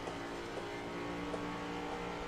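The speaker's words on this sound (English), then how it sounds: "revving the throttle in the pits" A race car idles and revs its throttle in the pits, heard as a steady, fairly faint engine drone with slight rises in pitch.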